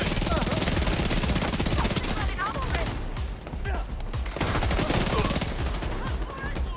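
Rapid gunfire in The Division 2 during the Battle for Brooklyn: dense, sustained bursts of automatic shots crackling close and loud, with a brief lull midway before the firing picks up again.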